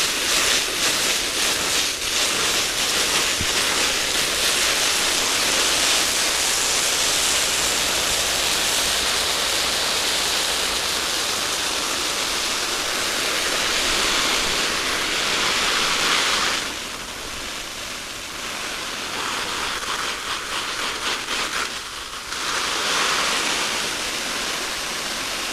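Steady, dense hiss of water spraying hard against a Jack Wolfskin Gossamer one-man tent's fabric, continuous and close, briefly dropping off twice before resuming.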